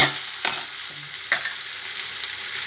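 Dried tail-fish curry being stirred in a pan, a few separate scraping strokes over a steady hiss, close and moderately loud, with no one speaking.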